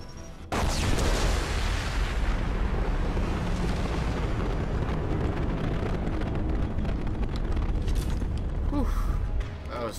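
A big explosion in the Mass Effect 2 video game, bursting in abruptly and then rumbling and crackling loudly for several seconds as debris and fire continue, with faint speech under it.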